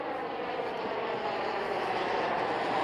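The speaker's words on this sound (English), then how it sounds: "Is that a private plane?" A jet airplane passing overhead produces a steady, broad engine roar that holds constant and slightly swells across the span, with no talk over it.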